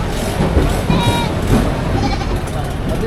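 Goats and sheep bleat repeatedly amid a busy crowd of talking buyers and sellers at a livestock auction in Padre Garcia, Batangas, with several calls rising over the steady chatter.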